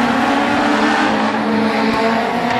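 Race cars roar around the North Star Speedway oval in a steady, loud engine drone with no break, a constant blend of several motors at full throttle.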